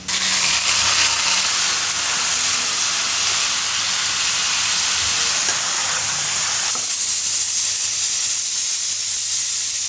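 A pressure cooker of dal (with cauliflower and potato) releases steam in a loud, continuous, close hiss that runs the whole time and grows brighter and harsher partway through.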